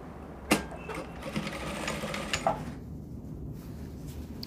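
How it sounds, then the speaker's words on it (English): A sewing machine stitches the second side of a lace-topped kaftan collar seam, a brief close burst of mechanical whirring and clicks that stops partway through, leaving quiet room tone. "So you sew the second side again till you get to your notching."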